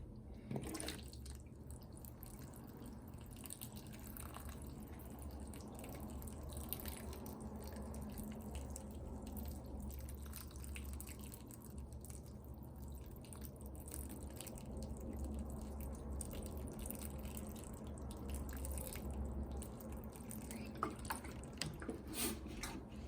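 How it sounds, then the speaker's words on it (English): Water soaks through a small pot of soil holding a Japanese maple bonsai seedling, with soft, close drips and trickles scattered over a long, quiet stretch. "And then I'm going to water this through."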